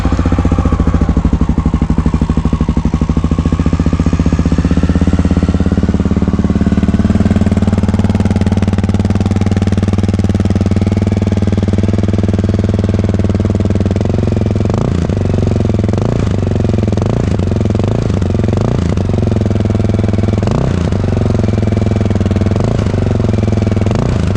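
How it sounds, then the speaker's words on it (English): Honda XR650L motorcycle with smog delete, rejetted carburetor and new exhaust runs loud and close, a steady thumping idle giving way to repeated sharp throttle blips that rise and fall in quick succession. "I'm gonna start the bike,"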